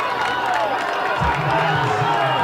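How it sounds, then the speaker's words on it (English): A home crowd at a Waunakee high school playoff football game, a steady roar of cheering that swells partway through, heard under a commentator's voice. "This quiet Waunakee crowd is roaring to life."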